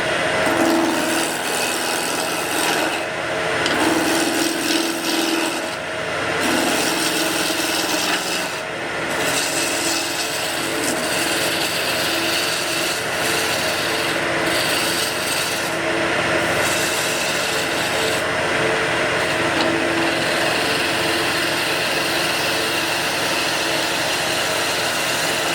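A wood spindle spins on a lathe while a tool roughs it down to round. The scraping, rasping cut runs continuously for nearly half a minute over the motor's hum, with brief dips where the tool eases off.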